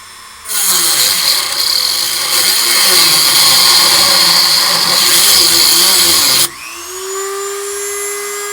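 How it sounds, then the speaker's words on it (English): A Dremel rotary tool drills out stubborn screws in the CRT housing of a Commodore Super PET SP9000, a loud, steady high-pitched whine running for about six seconds before cutting off and winding down. "try drilling that out some more with a Dremel"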